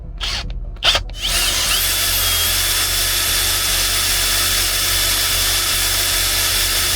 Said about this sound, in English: the reason I'm using a drill pump is because there's no motor in it